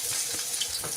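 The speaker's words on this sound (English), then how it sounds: "Are you frying something there?" Food frying in a pan: a brief, bright sizzle and crackle, steady and close, with no voices.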